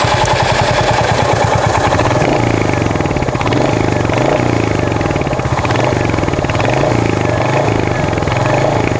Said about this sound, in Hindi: Now coming up to the royal Enfield Hunter 350, rider point of view से आपको कुछ ऐसा एग्जॉस्ट नोट सुनने के लिए मिलता है यहाँ पे।